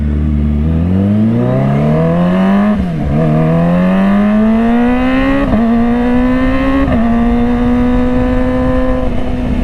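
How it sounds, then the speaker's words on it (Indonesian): A loud Kawasaki ZX25R sport motorcycle engine revs up through rising gears while riding, pitch climbing in repeated sweeps with brief dips at each shift, close and continuous, with no speech. "Udah sendirian, kita udah bisa ngegas-ngegas nih guys."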